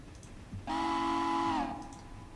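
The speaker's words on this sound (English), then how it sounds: "We'll go with a low whistle." A low locomotive whistle from a railroad video game gives one steady blast of about a second. It is clear and fairly loud, with no voices over it.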